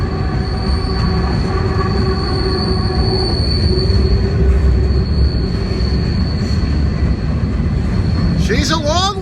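A long CSX freight train hauled by six engines rumbles steadily past close by, with sustained high metallic wheel squeal over the loud roll of cars. A voice is briefly heard near the end.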